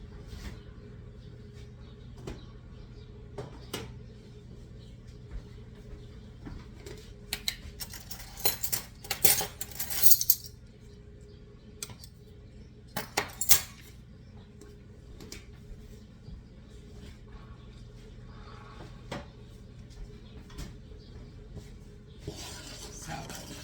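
A spoon stirs wheat germ into dry ingredients for rosemary muffins in a bowl, giving soft, quiet scraping with a cluster of sharper clinks against the bowl near the middle.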